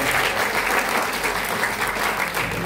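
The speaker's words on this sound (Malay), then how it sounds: "Tepuk tangan untuk Lokman." Classroom applause for a student, a dense steady patter of many clapping hands held at even loudness throughout with no talking over it.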